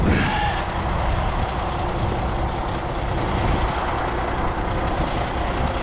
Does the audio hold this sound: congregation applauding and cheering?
no